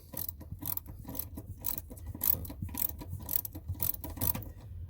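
A ratchet loosens a 10mm bolt on a 2010 BMW X5 while a module is being removed, quiet quick clicking strokes in steady bursts, close up with no voices.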